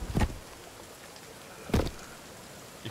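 Rain falling in the video game Sons of the Forest, a soft, steady hiss of drops, broken by a few louder thumps.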